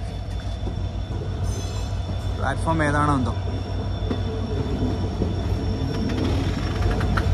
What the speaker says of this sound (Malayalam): ഇത് ഷണ്ടിങ് ആണ് കേട്ടോ ഈ ട്രെയിൻ.